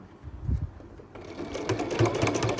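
A sewing machine stitching a fabric seam without basting. Its needle runs in a fast, even mechanical chatter that starts partway through, after quieter fabric handling, and is heard close with no talk over it.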